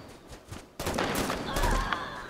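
Gunfire in the video game Halo 5: Guardians, a few faint shots early on followed by an abrupt, loud burst of sustained shooting and explosive crackle that carries on to the end.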